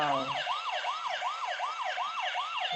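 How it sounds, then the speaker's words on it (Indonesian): A toy ambulance's electronic siren wails in a fast, rising-and-falling repeating cycle, steady and fairly close, running on its own without talk. "ini mobil ambulans teman-teman. Lihat. Wih, keren. Coba kita nyalakan."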